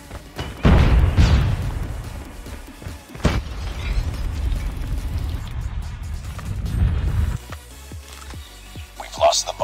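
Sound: flashbang grenade exploding in Call of Duty Mobile video game

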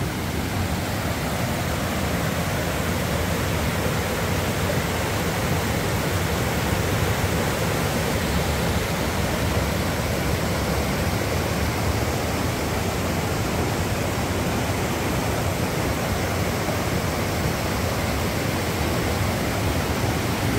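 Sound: stream of water flowing out through a cave

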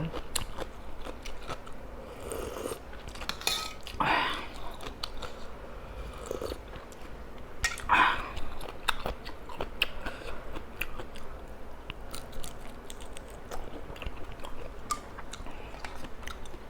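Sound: eating and chewing spicy fresh shrimp salad

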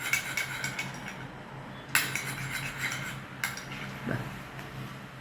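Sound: mixing oil into a cream in a bowl

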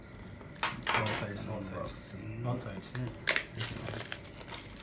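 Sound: cutting open a phone box packaging

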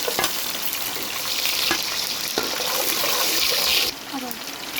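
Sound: garlic frying in oil with popped mustard seeds

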